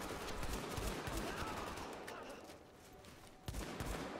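Gunfire from a handgun in the video game The Division rings out in a series of sharp, quick reports, a fairly faint cluster of shots with one louder crack near the end.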